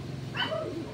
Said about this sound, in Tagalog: Ang ingay ng mga aso, kagulito mga aso na to.